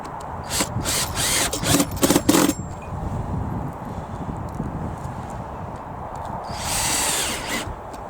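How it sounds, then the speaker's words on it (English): A power drill drives screws into wood outdoors while seeds are being sown, giving a cluster of short whirring bursts early on and another burst near the end, with rustling and handling noise between. "I'm going to screw into the wood here before we do anything else."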